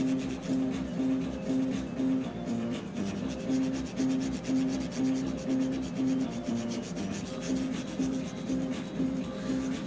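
A 1987 Nintendo Castlevania cartridge is polished by hand, making a continuous rhythmic rubbing and scrubbing sound close up, steady and moderately loud with a faint hum underneath and no talking.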